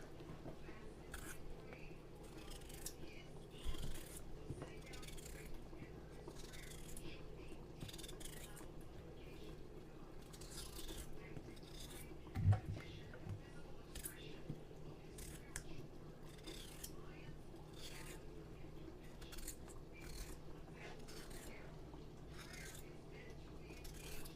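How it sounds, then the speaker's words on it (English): Knife cutting through raw potatoes in a home kitchen, with quick, close, quiet slicing clicks and scrapes spread through the clip and a sharper knock around the middle, over a low background hum. "Now it's time for me to cut my potatoes."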